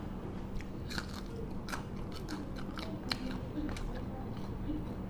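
Deep-fried Chinese chive cake (kuichai), fried in plenty of oil until crisp like a rice cracker, being bitten into: a series of sharp, dry crunches at close range over a steady background hiss.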